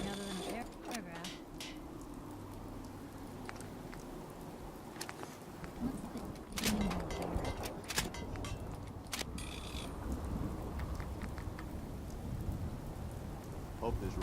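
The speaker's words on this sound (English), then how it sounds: "Hope this rain lets up soon." Rain falling in the Fallout 4 video game, a steady hiss of rainfall with occasional thunder rumbles, interrupted by sharp game effects and clanks.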